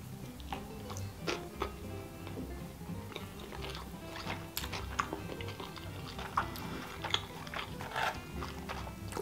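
Someone eats a hot-dog style sushi roll filled with crab sticks, with close, continuous wet chewing and soft crunches over a busy room background.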